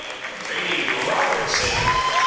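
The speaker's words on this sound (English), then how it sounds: "going to get a huge round of applause as he exits the court" Crowd applause inside Cave Arena at a Piedmont men's college basketball game against Warren Wilson as a player exits the court; steady, fairly loud clapping runs throughout beneath a voice talking.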